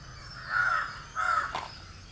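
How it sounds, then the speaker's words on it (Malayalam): Two loud, close crow caws a short pause apart, followed by a brief harsher call, with no voices. "ഒരു കാക്കയുടെ കരച്ചിലല്ലേ കേൾക്കുന്നത്"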